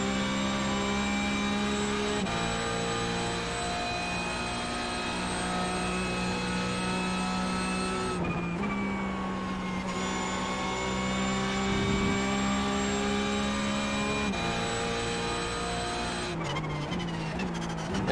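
Porsche 911 GT3 Cup race car in iRacing, engine droning loud and steady at high revs through a hard qualifying lap at Spa, with brief dips and shifts as the pitch drops and climbs again.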